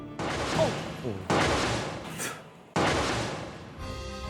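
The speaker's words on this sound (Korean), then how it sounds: "이렇게 총성이 울려 퍼집니다" Three bursts of gunfire from a 1968 shootout in central Seoul, each a sharp loud onset followed by a decaying rumble, spaced about a second or more apart, with no talk over them.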